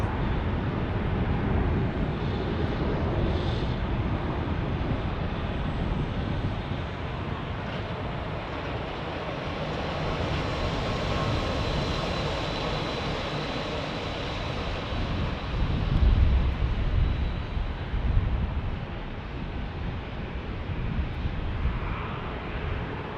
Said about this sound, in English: Here we go, American Airlines A320 here.